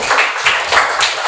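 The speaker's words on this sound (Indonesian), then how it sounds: "Oke, benar. Kasih tepuk tangan." A classroom of students claps for a classmate's correct answer, a brief burst of quick, uneven clapping at close range with no talk.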